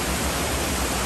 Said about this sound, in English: Comes down and goes there and turns into a waterfall.